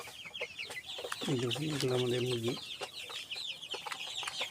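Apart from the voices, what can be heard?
Sonali chickens clucking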